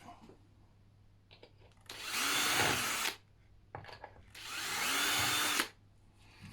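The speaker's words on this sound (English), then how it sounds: "Obviously you want to make sure that your drill isn't sort of protruding too far, you know, right through the lid." A power drill bores into the lid of a mitred wooden keepsake box in two loud, sustained bursts of about a second each, with quiet pauses and light handling sounds between them.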